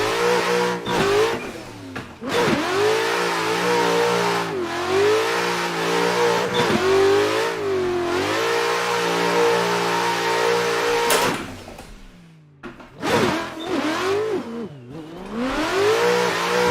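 A tuned Corvette's V8 revs hard in Assetto Corsa during drift-style runs, its loud engine note repeatedly climbing and dropping with gear changes and throttle lifts, then a brief lull before revving again.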